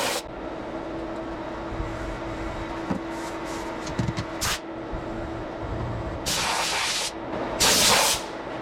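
Short compressed-air blasts blow off a freshly machined cross kart part held in a vise: two loud hissing bursts near the end, with quieter workshop noise and brief clicks before them.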